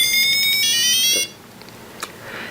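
Electronic alarm on the SAFE 3000 breadboard safety project, a loud pulsing high-pitched beep repeating rapidly for about a second before cutting off, leaving faint background noise and a small click.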